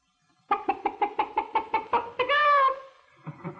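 A chicken clucks near and loud in a rapid run of about ten sharp notes, ending in a drawn-out squawk, followed by a faint low sound.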